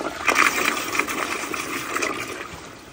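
An American Standard Glenwall wall-hung toilet flushes a grocery bag, a steady rushing wash of water with gurgling swirls, close and fairly loud, fading slightly toward the end.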